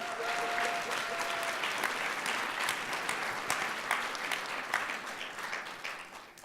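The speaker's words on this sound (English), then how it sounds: "we should give ourselves a round of applause for that" Sustained applause from a conference panel audience fills the room, a dense steady patter of many hands that holds throughout before thinning slightly near the end.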